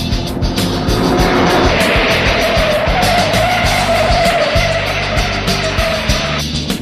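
Race cars on the last lap at Bathurst roar past loudly with tyres squealing and skidding, a continuous blur of engine noise and screeching rubber.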